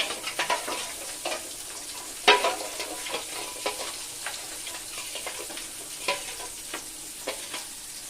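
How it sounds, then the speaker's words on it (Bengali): Rohu fish frying in a pan with chilli and cumin masala, a continuous hiss of hot oil under irregular scraping taps of a spoon stirring, one sharper clack standing out, no talking. "তো মশলাটা একটু মিশিয়ে নেব"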